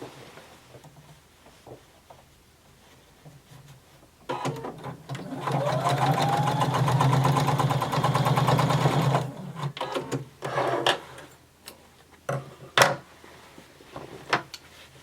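A sewing machine stitches a denim waistband in one sustained, loud, rapid run of about five seconds, framed by quieter fabric handling, clicks and thumps before and after.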